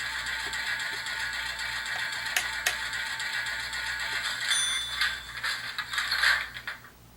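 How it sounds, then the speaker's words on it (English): Steady mechanical hissing and whirring of the air compressor sound effect on an HO scale Bowser New Orleans streetcar model, running continuously, with faint clicks and rattles toward the end. "So we've got the air compressor going off now."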